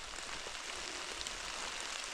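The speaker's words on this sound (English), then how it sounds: "it's raining so hard" Hard rain falls steadily outdoors during a shed antler hunt, a faint, even, continuous hiss of drops with no voices.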